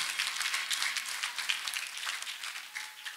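An audience claps for a speaker at a church testimony gathering, a dense, continuous burst of many hands at moderate distance, steady for a few seconds before easing slightly.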